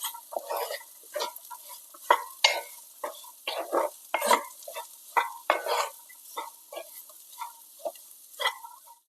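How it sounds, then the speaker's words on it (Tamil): A spoon stirs beetroot chana palya in a pan in close, uneven scrapes and clatters, a dozen or so strokes over a faint sizzle, with no voices. "எல்லாத்தையும் நல்லா கலந்து விடலாம்."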